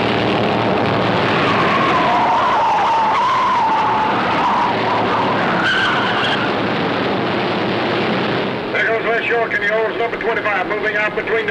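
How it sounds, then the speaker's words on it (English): Stock cars racing at Darlington in 1960, including a Pontiac, an Impala, a Buick and a T-Bird, roar past loud and steady with tire skids. A narrator talks over the engine noise throughout. "off the second turn down the back stretch is Pawpaw Roberts in Pontiac number 3"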